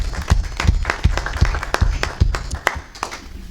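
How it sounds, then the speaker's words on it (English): A small crowd applauding volunteers at a city council meeting in University Heights, sparse distinct claps in a loose rhythm that thin out near the end. "So let's round of applause for all of them."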